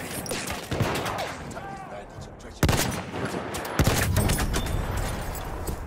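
Gunfire from a Battlefield 1 match, a few loud, sharp shots a second or so apart with game noise between them and a voice talking over the action.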